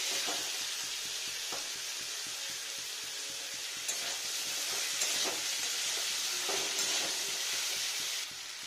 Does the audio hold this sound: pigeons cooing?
no